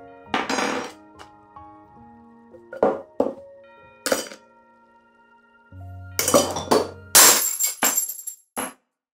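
A glass soda bottle falls and breaks, sharp clinks and crashes of glass in several bursts with ringing shards scattering, close and fairly loud, without speech.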